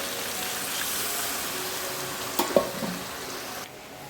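A cooking mixture sizzles and bubbles steadily in a pot while it is stirred, with a couple of brief clinks of the utensil near the middle before the noise drops off near the end.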